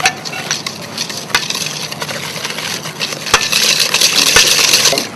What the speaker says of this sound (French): on met le sucre